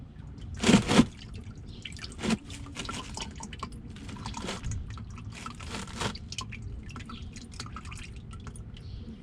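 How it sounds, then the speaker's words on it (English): Engine oil drips from the drain of a 2017 Honda CR-V during an oil change, a close series of soft, irregular drips and patters with a louder splash near the start. "Just let that drip out."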